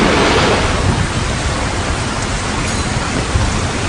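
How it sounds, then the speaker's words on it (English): A thunderstorm with torrential rain roars as a dense, steady wash of loud downpour, with deep low rumbling of thunder underneath, continuous and close throughout. "he sent torrential rains in Vrindavan along with fearful thunder and lightning"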